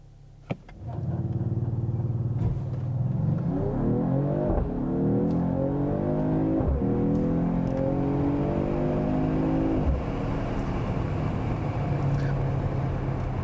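2022 Mercedes-AMG GT 43 turbo straight-six four-door launching in a 0 to 60 test: a sharp start, then a loud engine climbing through rising revs with distinct gear-change breaks, heard from inside the cabin, easing back to a steady drone.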